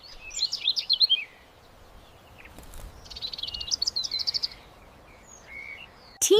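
Small cartoon bird chirping in a Paw Patrol rescue scene: two bursts of quick, high, bright tweets with a pause between, fairly close, over a faint background and no talking.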